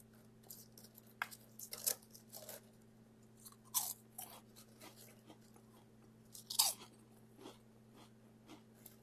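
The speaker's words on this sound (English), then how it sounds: "let me just show you how crunchy it gets." Crisp dehydrated homegrown kale chips crunched up close, a few sharp bites followed by bursts of crackly chewing separated by quiet pauses.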